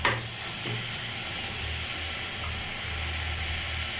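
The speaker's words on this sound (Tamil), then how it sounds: "தக்காளி சேர்த்து நல்லா வதக்கிக்கலாம்." Tomatoes and onions sautéing in a pan with a little salt, a steady close sizzle and hiss throughout, with a soft stir or scrape at the start, no talking.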